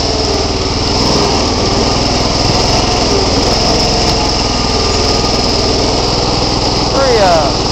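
A Bolens garden tractor engine with wheel weights fitted strains loudly and steadily under a pulling load, a continuous buzzing drone from start to finish with a brief surge near the end, and a voice heard briefly over it.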